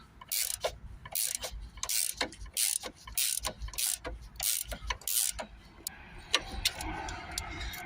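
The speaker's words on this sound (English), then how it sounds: "now we can just open that with a manual spanner here" A manual 16mm ratchet spanner undoing a nut on the front suspension of a Citroën C4, loud rapid clicking bursts repeating in quick strokes up close, then fainter scattered clicks and metal taps toward the end.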